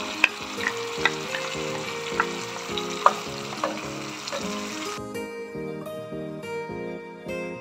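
Spinach puree frying in a hot pan for palak paneer, a steady sizzle broken by regular spoon knocks and scrapes, close up, with a musical backing coming in partway through.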